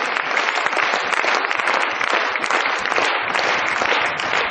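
A large audience at a company recognition event claps loudly and continuously, a dense, sustained roar of applause from a crowded hall with no break.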